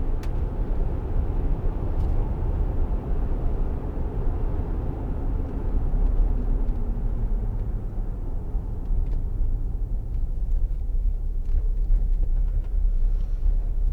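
A Land Rover Discovery 3 2.7 TD V6 HSE diesel accelerates on the road, giving a steady, loud low engine drone with road rumble that holds throughout without a break.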